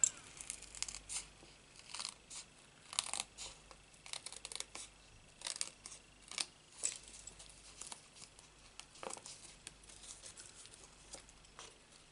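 Scissors snipping card stock for a handmade birthday card: a quiet, fairly steady run of small papery cuts and rustles, close by, with no talking.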